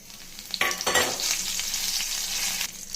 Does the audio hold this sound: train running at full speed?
no